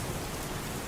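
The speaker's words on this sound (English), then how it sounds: "Just little drops of water. That's what rain is." Steady rain falling on a surface, a dense, even hiss with soft low patter that holds constant for a short moment, with no voices.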